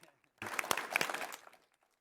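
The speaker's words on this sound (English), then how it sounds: "let's give her a round of applause" Brief, faint applause from the audience at a Westside cities council of governments board meeting, a short burst of scattered clapping lasting about a second before dying away.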